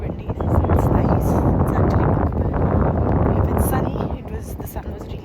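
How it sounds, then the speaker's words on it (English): Wind blows by a river and buffets the microphone with a loud, steady low roar that fades slightly toward the end. "It's a little windy."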